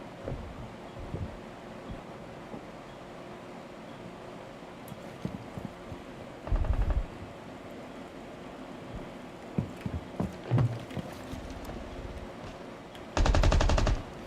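Gunshots in Rainbow Six Siege: two short, loud bursts of rapid fire stand out against a low, quiet background of scattered clicks and footsteps.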